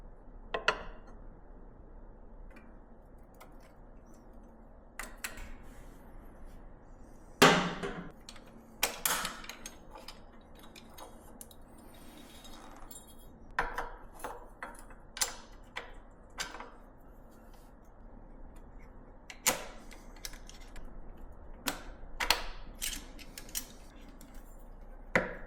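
Fitting rally foot pegs taken from a KTM 790, plus an extension plate and an AXP skid plate, onto a 2024 KTM 690 Enduro R. Quiet, sparse metallic clicks and clanks are spaced irregularly over a low background.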